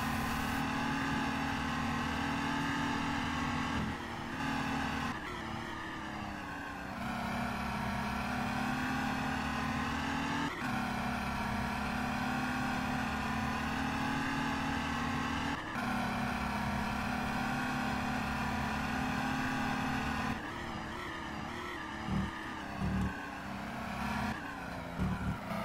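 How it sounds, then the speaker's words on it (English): On-board engine of a race car at the 2014 24 Hours of Le Mans, a loud, steady high-revving roar that drops briefly at each gear change and winds back up, with a choppier downshifting stretch near the end. "On board with Nuno Pinto, chasing down the Peugeot from Pedro Gomes"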